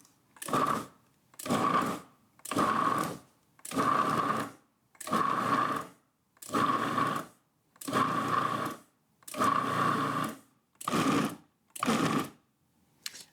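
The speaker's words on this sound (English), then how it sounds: "in a food processor, combine the flour, sugar, salt, vanilla, almond, and butter" A food processor pulses cookie dough of flour, sugar, salt, vanilla, almond and butter, about ten separate motor bursts of roughly a second each, evenly spaced with short silent gaps, loud and close with no talk.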